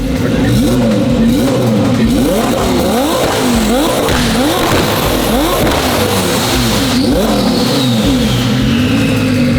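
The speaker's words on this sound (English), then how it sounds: "Every car gets a burnout." A twin-turbo Audi R8 built to 1,600 hp does a burnout, the engine loud and close as it revs in repeated rising and falling sweeps over a rough roar and tire noise.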